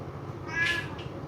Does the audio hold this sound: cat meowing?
yes